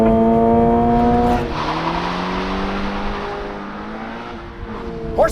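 A Toyota GR86 with a 2.4-liter four-cylinder boxer engine and manual gearbox driving on a racetrack, its engine note holding steady then easing into a lower drone, heard from a distance without talk.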